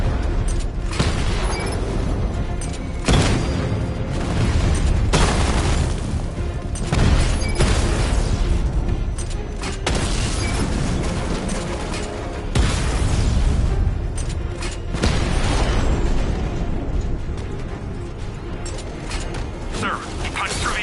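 Batmobile firing its 60mm cannon at heavily armored tanks in a video game: repeated heavy booms and explosions over a dense mechanical rumble, hitting every few seconds at steady loudness, with game voices under the din.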